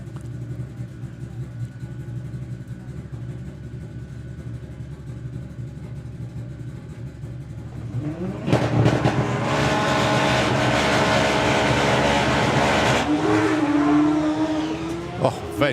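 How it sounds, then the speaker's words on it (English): Drag racing car launching down the track at a summer nationals meet, a steady idle rumble that suddenly erupts into a loud, sustained roaring engine blast as the car leaves the line, fading at the end. "just blazes the tyre off the line"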